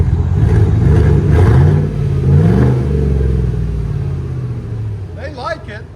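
A 2019 Chevy Tahoe 5.3L V8 with a Flowmaster exhaust revs while parked, its deep, loud rumble swelling and dropping in a couple of throttle blips before settling, with a brief voice near the end.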